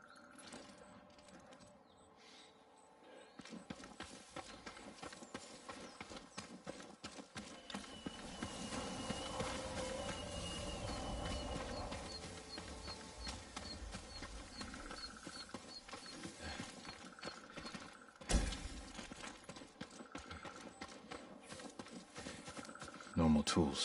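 Steady clip-clop of horse hooves walking in the video game Ghost of Tsushima, under ongoing speech and background ambience, with a louder thump partway through.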